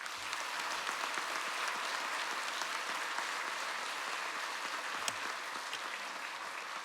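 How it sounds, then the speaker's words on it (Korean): Church congregation applauding during a 50th anniversary service at a Seoul church, a steady, dense clapping that holds at an even level for about seven seconds with no voices over it. "우리 멀리서 박수 한번 하겠습니다"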